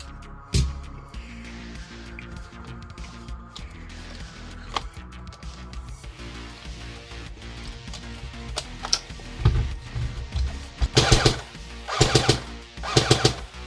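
An airsoft FAMAS rifle firing in cold outdoor air, scattered single shots early on, then a few tight rapid bursts of sharp clattering cracks toward the end, loud and close with no talking.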